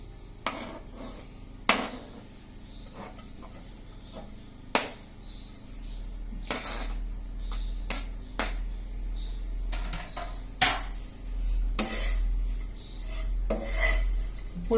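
Cut eggs are added to a pan and stirred for egg chilli, with repeated metallic clanks and scraping strokes of a utensil against the pan, close and uneven over a low steady hum, no voices.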